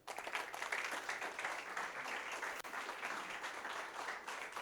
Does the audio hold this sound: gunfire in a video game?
no